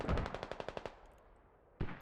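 A rapid burst of about nine automatic gunshots in a Squad tournament match between HSR and DADSIFC, sharp and close, then quiet before a single loud shot near the end.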